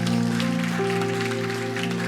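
A church congregation clapping in thanks, a brief steady round of applause from a crowd of worshippers with sustained organ or keyboard tones underneath.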